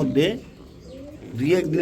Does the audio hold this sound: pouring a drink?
no